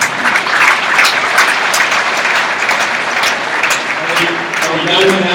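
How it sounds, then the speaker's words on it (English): A crowd at a university livestock show applauds loudly, a full rattle of many hands that swells again near the end, with voices faintly mixed in beneath. "Give a round of applause."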